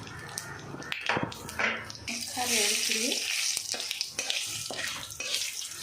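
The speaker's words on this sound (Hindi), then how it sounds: "इसको तेल में फ्राई करना है।" Bay leaf and whole dried red chilies fry in hot oil for a parwal coconut milk korma, a soft, steady sizzle broken by clinks and stirring knocks, close up with a brief voice in the background.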